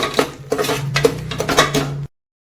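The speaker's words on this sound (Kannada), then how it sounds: "ಈಗ ಇದನ್ನು ಚೆನ್ನಾಗಿ ಇಲ್ಲಿ ಮಿಕ್ಸ್ ಮಾಡ್ಕೋತೀನಿ" A spoon scrapes and clinks against a pot while garam masala and turmeric are mixed in for a pea and potato gravy. The knocks are loud, close and uneven, then stop abruptly, leaving silence.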